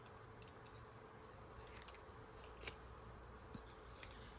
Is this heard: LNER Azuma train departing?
no